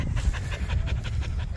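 A Border Collie on a leash pants in quick, steady, rhythmic breaths, close and continuous, with no talking.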